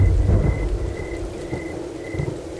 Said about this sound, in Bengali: আবার ঝড় শুরু হচ্ছে, বিদ্যুৎ চমকাচ্ছে গুড় গুড় শব্দ তুলে।